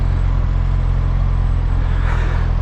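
Suzuki GSX-S 1000 motorcycle engine on the move, a loud steady low rumble with constant road and wind roar and no distinct revs, close up throughout the short stretch.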